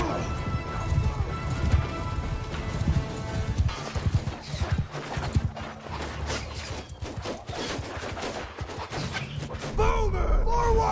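Horses gallop in a Mount & Blade 2: Bannerlord battle, a dense, continuous clatter of hooves mixed with crashing combat noise, loud and busy throughout.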